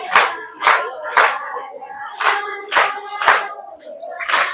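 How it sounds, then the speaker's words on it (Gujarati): Children clap along to devotional dhun singing at a Hanuman temple festival, loud rhythmic hand claps in a steady beat with crowd voices mixed in. "બાળકોએ પણ તાળીઓ પાડીને ધૂન બોલવાનું શરૂ કર્યું."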